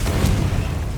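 Confringo blast spell exploding in Hogwarts Legacy, a single heavy low boom rumbling loud and close for about a second.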